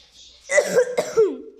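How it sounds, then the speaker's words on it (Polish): A single close, throaty cough with a raspy vocal edge, brief and loud. "Sorry widzowie za kaszel."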